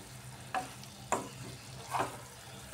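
Cauliflower, potato and tomato cooking down with yogurt in a pan, a soft background sizzle broken by three or four spoon scrapes at irregular intervals, close-up and quiet.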